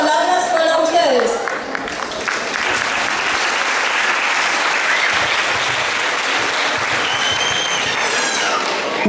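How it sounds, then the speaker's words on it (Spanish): A crowd at a Mother's Day celebration breaks into loud, sustained applause to welcome a deputy, dense clapping filling the whole stretch with a voice speaking over it near the start. "ahora lo vamos a recibir con un fuerte aplauso"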